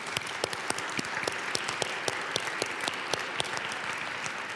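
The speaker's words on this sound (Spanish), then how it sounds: "les pido que les demos un fuerte aplauso de bienvenida" Welcoming applause for the speakers at an OAS policy roundtable, a fairly small audience clapping with distinct individual claps audible throughout a steady patter lasting several seconds, with no talking.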